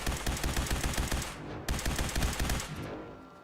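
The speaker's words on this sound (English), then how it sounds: "Surprised I can fire that fast for the sniper barrel." A sniper-barrel rifle in the game Fallout 4 fires rapid bursts, two volleys of quick, sharp cracks in steady rhythm with a brief gap between them, fading out at the end.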